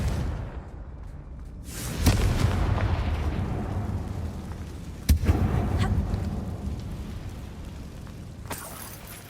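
A Confringo spell blasting inside an old closed mine in the Hogwarts Legacy video game, with a loud booming burst followed by a long rumbling roar and a second sharp blast midway.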